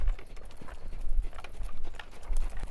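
A horse moves on the ground during groundwork, its hooves making a steady, close clip-clop rhythm of soft thuds over several seconds.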